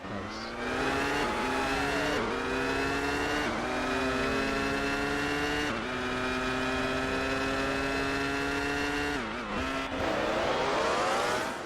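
Race cars in the F1 2002 video game roar past one after another, high whining engines sweeping and shifting pitch in steady succession, loud and close.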